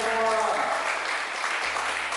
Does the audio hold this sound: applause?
yes